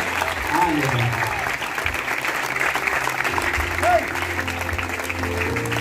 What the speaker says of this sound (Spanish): regalémosle palmas a Dios